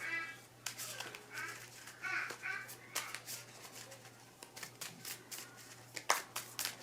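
A deck of Marvel Champions game cards being shuffled by hand, a series of quick papery riffles and soft slaps in short bursts, close and fairly quiet, with no talking.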